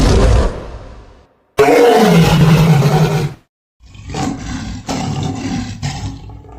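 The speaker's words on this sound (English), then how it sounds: "Lion." A lion roars loudly and close, one deep rumbling roar followed by a longer throaty roar, then a series of lower grunting roars after a brief pause.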